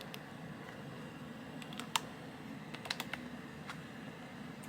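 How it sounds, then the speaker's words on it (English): Fingers tap sparse, quiet keystrokes on the small keyboard of a Fujitsu Lifebook U820, irregular clicks over a low steady hum, with no talking. "This is just me trying to try out this keyboard basically."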